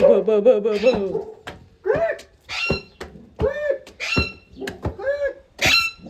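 A parrot gives a string of squawks, whistles and cooing calls, close and fairly loud, spaced through the whole stretch with short gaps.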